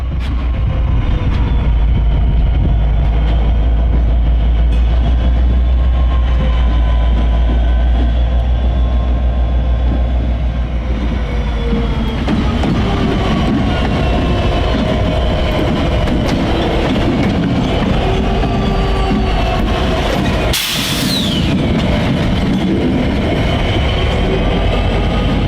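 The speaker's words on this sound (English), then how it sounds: "we returned to Jackson Yard to document train B16, which was being pulled by a rare GP59" Norfolk Southern GP59 locomotive 4641, running long hood forward and pulling train B16 at Jackson Yard in snow, rumbles loudly and steadily with constant rail noise and clattering cars, plus a brief high squeal near the end.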